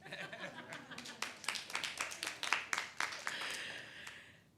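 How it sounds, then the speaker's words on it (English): Audience at a mayoral press announcement for a new city transit director claps, scattered sharp hand claps building into brief applause with a chuckle or murmur mixed in, moderately quiet, then fading out. "This is Jeffrey, you can clap."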